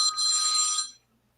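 A telephone rings in one sustained bright electronic burst lasting most of a second, loud and close, then cuts off into near silence.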